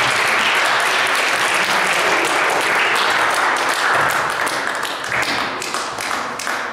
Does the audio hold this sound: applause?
yes